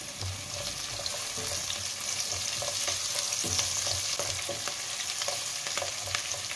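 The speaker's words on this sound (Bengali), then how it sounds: "পেঁয়াজগুলো ততক্ষণ একটু হালকা ফ্রাই হোক" Onions fry lightly in a home kitchen pan, a continuous close sizzle with scattered crackles and occasional stirring scrapes, no voices over it.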